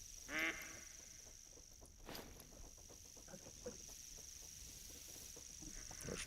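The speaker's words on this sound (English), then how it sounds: "There's ducks coming in around us somewhere." Ducks quack in theHunter: Call of the Wild at Leyton Lake, one loud call early and then fainter scattered calls from a distance over a steady high ambient hum, with no talk.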